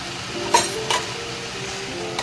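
Chicken with peas sautés in a pan under a low, steady sizzle, while a spoon scrapes and stirs in a few distinct strokes.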